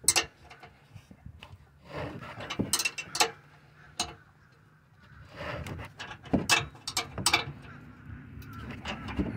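Ratchet wrench working a bolt loose on a 2021 Ford Bronco during crash bar removal, giving bursts of quick metallic clicking and clunks in uneven spurts, fairly close, with faint background noise between.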